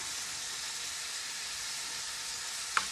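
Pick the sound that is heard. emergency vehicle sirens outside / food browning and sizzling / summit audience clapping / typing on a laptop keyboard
food browning and sizzling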